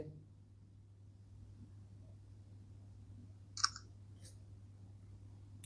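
A single soft shutter click from the rear camera of a Xiaomi Redmi 15C phone, brief and close over a quiet low hum, followed by a fainter second tick.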